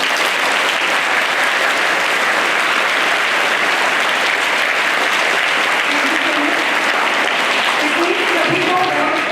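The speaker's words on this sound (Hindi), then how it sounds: "जिसको जितना अच्छा लगा उतनी जोर से ताली बजा दें।" Loud, sustained applause from a crowd of school children at a Hanuman Janmotsav school function, dense clapping throughout with a voice faintly heard near the end.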